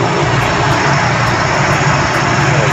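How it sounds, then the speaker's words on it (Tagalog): A used car engine with over 150 psi compression idles at 900 RPM with the air conditioning on, loud and close with a steady, even roar and a faint rhythmic pulsing, no voices. "nakita nyo po yung aking makina kung paano siya umandar"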